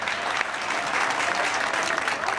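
Applause from an audience at a comedy poets' show aboard a boat on the Hooghly river, a thick continuous roar of clapping that stays loud throughout.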